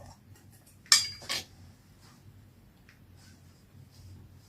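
Steel bowls clink and clatter twice in quick succession, close by, against a steady low background hum.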